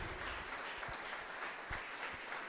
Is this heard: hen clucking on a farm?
no